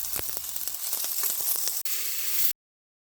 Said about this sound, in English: Add in the sliced red onion and stir.